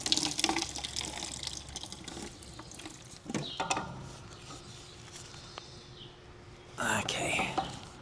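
Water drains from a crop-duster aircraft's fuel filter into a bucket, a steady trickling splash that comes and goes over about eight seconds, with quiet voices now and then.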